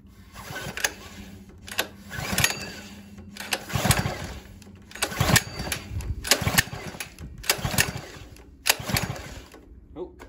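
An Earthquake Pioneer rear tine tiller is cranked again and again, each pull giving a short rough burst of mechanical rasping in a loose rhythm, close and fairly loud, without the engine catching.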